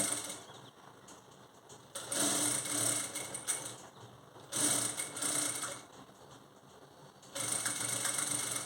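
A sewing machine stitches thread piping onto blouse lining in fast, whirring runs, starting and stopping in several bursts with quieter gaps between them.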